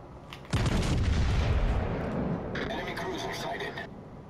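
Heavy naval main guns on the battleship Tirpitz fire in a naval combat video game, a loud deep boom opening a long rumbling roll, followed by a further burst of layered booms.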